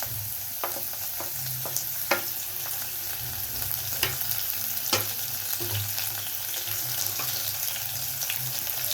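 Ginger, garlic and green chilli sauté in hot oil in a pan for dal fry, giving a steady crackling sizzle broken by occasional sharp clicks and scrapes of a stirring spoon, close and continuous with no talking.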